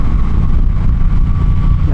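An Indian Challenger motorcycle engine pulls hard under acceleration, a loud, steady roar heavily buffeted by rushing wind at speed.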